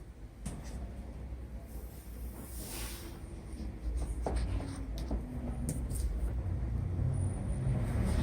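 Refrigerator wiring sheath is slit open by hand, a series of short scraping and cutting strokes up close against quiet background noise.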